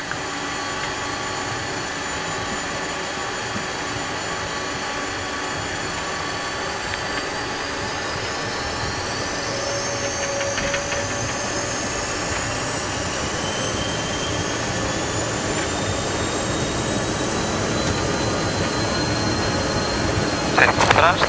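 Avro RJ100 jet engines spooling to takeoff thrust, heard from inside the cockpit as a loud, steady roar with a rising whine that climbs and holds, continuous for the whole stretch.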